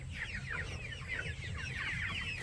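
Hungry chicks peeping and clucking busily at close range, a dense stream of rapid, overlapping chirps over a low background rumble.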